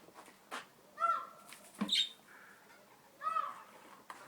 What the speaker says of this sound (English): You hear the peacock, Sarah?